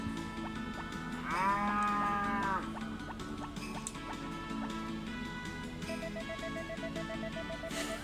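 A cow moos once in Harvest Moon Back to Nature, a drawn-out tonal call rising over steady game music and farm ambience.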